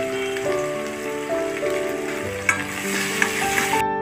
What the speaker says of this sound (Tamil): வெங்காயம் சின்ன சின்னதாக கட் பண்ணியிருக்கேன். கொஞ்சம் சால்ட்டு போட்டு நல்லா வதக்கி எடுக்கலாம்.